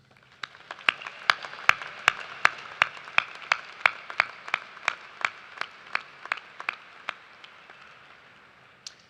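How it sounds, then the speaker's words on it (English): Commencement audience at a university afternoon ceremony applauding graduates, a steady run of crisp, distinct claps that gradually thins and fades toward the end. "please join me in applause to acknowledge the scholastic achievements of all of our"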